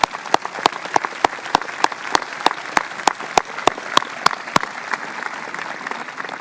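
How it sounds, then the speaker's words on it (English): Graduation ceremony audience at The Kinkaid School applauding a speaker, a steady wash of many hands clapping across the whole stretch, moderately loud and continuous, with sharp regular clicks punctuating it. "Let's give another round of applause for Joe Ehrman"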